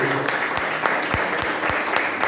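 Worshippers at a church service held in a garage applaud; a short burst of clapping with a few sharper, louder claps standing out near the listener.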